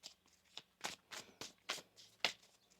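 Tarot cards shuffled by hand in a quiet room, a series of soft, crisp riffling bursts in an irregular rhythm, close and fairly faint with no talking.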